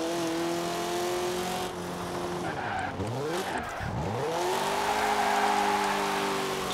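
A car in Forza Horizon 4 sweeps through a full loop, its engine tone sliding down and back up as the tires squeal and skid through the turn, then settling into a steady roaring drone.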